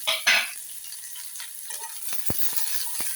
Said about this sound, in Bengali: পেঁয়াজ কুচিগুলো ওর মধ্যে দিয়ে আমি একটু সময় ধরে ভাজবো।